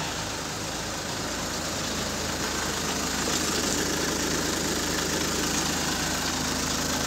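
Volvo car engine running steadily after a restart in snowy weather, a continuous dense rumble with a faint knocking texture, loud and close, holding an even level with no speech.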